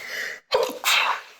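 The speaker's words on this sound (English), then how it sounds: "I just sneezed" A single close person's sneeze: a short breathy intake, a brief pause, then a sharp explosive burst of air and a trailing exhale.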